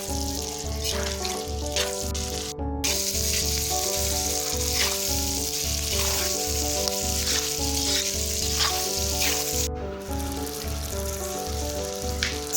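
Sliced onion and capsicum sauté in hot oil in a pan for chilli chicken, a continuous close sizzle with steady crackle and faint stirring, while a rhythmic musical beat plays underneath without any talking.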